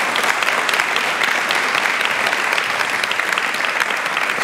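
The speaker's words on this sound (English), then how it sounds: "If you can all give them a warm welcome and an applause." Audience applause welcoming speakers at an evening panel event on climate change, conflict and migration: a dense, steady clapping from a full room that holds at an even level throughout.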